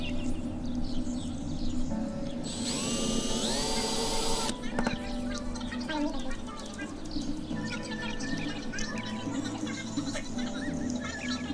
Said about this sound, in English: You want to drill just deep enough to remove the flange at the top of the pillar.